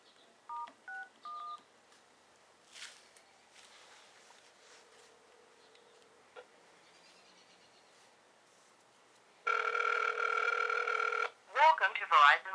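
Keypad tones from an LG Spectrum 2 smartphone dialing a test call: a short run of distinct beeps near the start, a long steady tone later on, then a brief burst of sound at the end, all fairly quiet against faint room noise.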